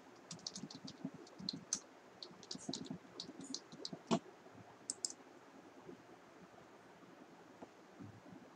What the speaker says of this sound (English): So here you need to type password